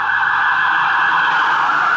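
A police siren wails loud and continuous throughout, holding a strong steady tone on a street.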